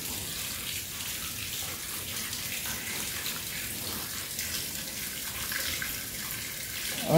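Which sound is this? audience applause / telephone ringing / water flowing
water flowing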